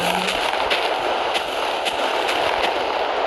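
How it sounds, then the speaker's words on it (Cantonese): A redstone-built TNT cannon in Minecraft fires in a rapid series of explosive thumps over a dense, constant crackling roar, loud and without talking. "整呢大炮通常射完都會爛嘅"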